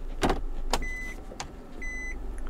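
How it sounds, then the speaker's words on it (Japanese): Electric parking brake engaging in a Nissan Serena: two short whirring motor bursts, each ending in a steady electronic beep, heard up close inside the quiet cabin over a low idle hum. "これで電動パーキングブレーキが入りました。"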